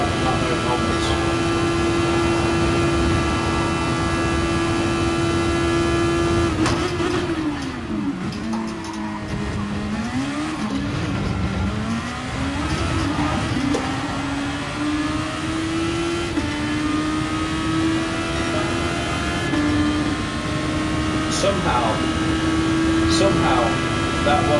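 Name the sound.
open wheeler race car engine in video game GT Sport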